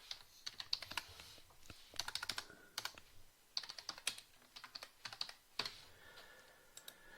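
Rapid bursts of typing on a computer keyboard, crisp close key clicks in irregular clusters with short pauses, alone without voices.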